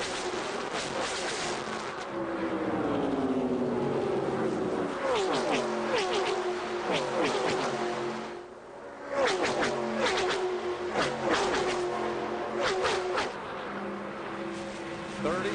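Stock cars racing at about 190 miles an hour in the 2000 NAPA Auto Parts 300, engines screaming past in repeated waves with Doppler sweeps and a brief lull, under a race commentator's voice.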